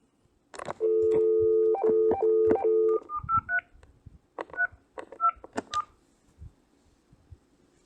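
Telephone keypad dialing: a long run of steady DTMF tones pressed in quick succession, followed by a string of shorter beeps and clicks at varied pitches, fairly clear and close, with no voices.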